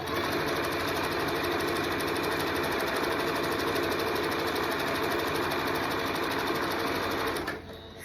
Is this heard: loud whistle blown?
no